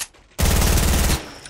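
Automatic gunfire in a video game, a single loud, sustained burst of rapid, evenly spaced shots lasting under a second, close and alone, ending abruptly.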